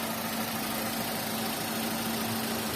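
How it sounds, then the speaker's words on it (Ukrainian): A 2009 Mazda 6 with a 1.8-litre gas/petrol engine idles with a steady, even hum and a low rumble throughout, with no talking. "Можете почути роботу двигуна."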